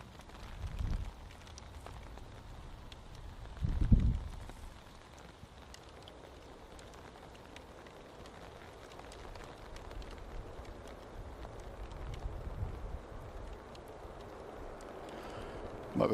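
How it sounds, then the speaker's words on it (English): Rain patters softly outside during a live stream at Manchester Airport, a faint, steady hiss of drops with a few louder low rumbles. "Might be able to hear the rain pitter-patting in the background."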